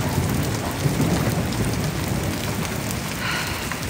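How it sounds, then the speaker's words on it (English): A thunderstorm at Lake Elsinore: heavy, steady rain pours down with a deep rumble of thunder rolling underneath, continuous and fairly loud, with no voices. "I haven't heard back-to-back thunder in so long."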